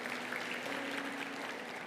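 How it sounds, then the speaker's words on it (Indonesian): Steady applause from a church congregation during a sermon, a dense wash of clapping that holds at an even level throughout the short stretch. "Yang percaya kasih tepuk tangan yang paling meriah buat Allah kita."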